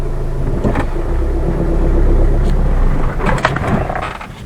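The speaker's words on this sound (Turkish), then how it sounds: "ve aracımız stop etti." A car engine stalls on a steep uphill ramp during a hill start: it rumbles loudly and steadily, then sputters and cuts out near the end, leaving a fading low hum.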